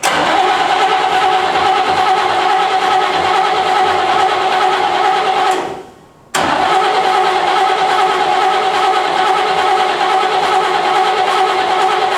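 A 1966 Chevrolet Corvette barn find cranks with a steady, loud, droning whir while not getting fuel. The cranking stops briefly partway through, then resumes just as loud without the engine catching.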